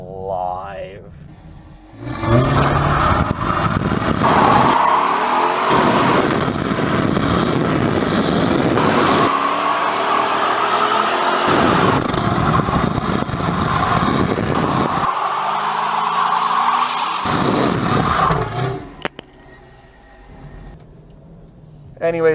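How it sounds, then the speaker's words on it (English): A 2015 Dodge Charger R/T roars through a series of loud sustained bursts of engine revving and tire noise, broken by brief pauses, with the engine dropping back between pulls. "you can hit this little traction control sport button down here, and it'll do one hell of a burnout"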